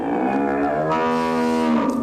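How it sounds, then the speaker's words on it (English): A pig squealing shortly before slaughter gives a loud, sustained, harmonic cry lasting about two seconds, with a slight shift in pitch partway through and no talk over it. "That was the sound of a pig recorded yesterday,"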